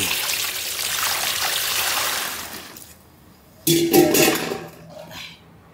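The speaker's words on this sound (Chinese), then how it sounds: "倒水" Water pours in a steady broadband rush for about three seconds, stops, then a shorter, brighter splashing pour follows with a faint clink.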